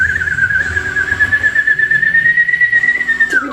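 A human voice imitates a weird ululating whistle, producing one loud, sustained, wavering high tone for about three seconds before it breaks off.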